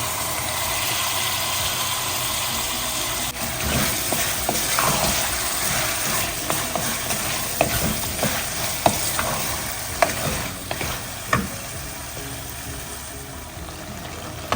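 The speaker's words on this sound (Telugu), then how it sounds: "వేసి ఒక 5 మినిట్స్ వరకు బాగా ఫ్రై చేసుకోవాలి." Mutton pieces fry in a hot pan with oil, giving a steady close sizzle broken by scattered clatters and scrapes of stirring, with no talking.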